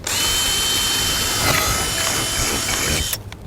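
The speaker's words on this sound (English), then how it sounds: "Drilling." A power drill whines steadily for about three seconds at close range, drilling a racing yacht's sail, then cuts off abruptly.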